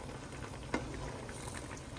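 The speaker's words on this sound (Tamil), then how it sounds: "சூப்பராக கொதிச்சு கொண்டு வரட்டும்." Canned fish curry boils in a pot with a soft, steady bubbling and patter, quiet throughout, broken by one brief sharp click partway through.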